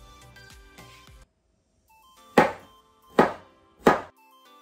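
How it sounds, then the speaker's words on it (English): Garlic cloves sliced with a knife on a board, three sharp separate cuts in an even rhythm after a faint opening stretch, close and distinct with no talk. "And for the garlic cloves, we are just going to cut them to slices."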